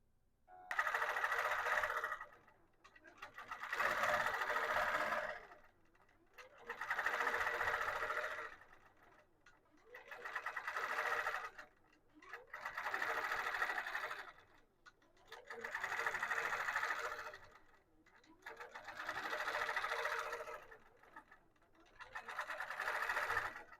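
A computerized longarm quilting machine stitching a panel runs in repeated bursts, each a few seconds of fast, steady mechanical whirring and clatter separated by brief pauses, close and loud with no speech.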